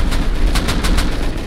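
Rapid loud gunshots in Rust, a quick rhythmic string of sharp cracks over a low rumbling background, close and without talk.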